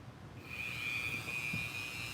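A Dremel rotary tool spins up on a toy therapy table project, its thin high whine starting after a short quiet moment and holding steady and fairly faint, with slight wavering in pitch as it runs.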